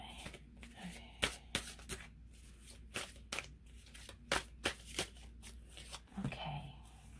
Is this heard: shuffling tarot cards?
yes